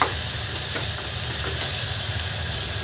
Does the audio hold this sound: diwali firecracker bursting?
no